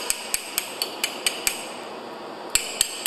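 Ball peen hammer striking a pump piston while chipping off concrete, about ten sharp metallic taps in an uneven rhythm with a short pause, close and clear.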